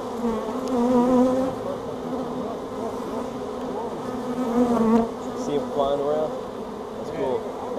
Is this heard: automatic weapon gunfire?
no